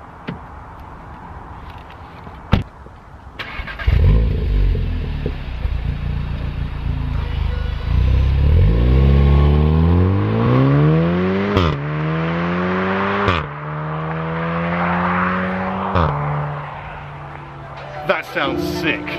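A Volkswagen Golf R 7.5 engine revs hard through several rising gear pulls, each climb ending in a sharp shift, loud and close with occasional clicks.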